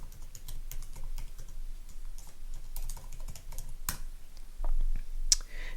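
Login credentials are typed on a computer keyboard, producing quick, close, irregular key clicks in short bursts, with a couple of louder taps and a brief pause in between.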